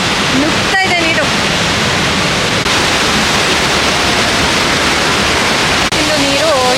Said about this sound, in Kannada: ನುಗ್ತಾ ಇದೆ ನೀರು.